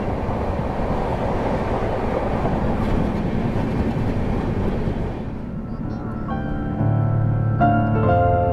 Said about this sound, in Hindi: पुरुषोत्तम एक्सप्रेस इस समय स्किप मार रही है विंध्याचल स्टेशन को